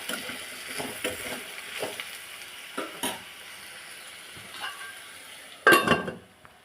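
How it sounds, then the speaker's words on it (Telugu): Ridge gourd pieces fry in a pan while a utensil stirs them, giving a close, steady sizzle broken by repeated scraping strokes and a louder clattering stir near the end. "కొద్దిగా ఫ్రై అయిన తర్వాత బీరకాయ ముక్కలను వేసుకొని కలుపుకోవాలి"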